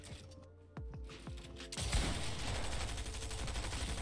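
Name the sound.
SMG gunfire in Fortnite video game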